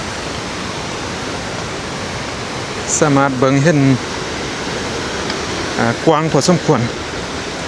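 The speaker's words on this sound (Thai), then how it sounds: "น้ำตกจุดนี้ละพี่น้อง" Steady broadband roar of the Li Phi waterfall on the Mekong River in southern Laos, loud and constant throughout, with someone speaking briefly over it twice.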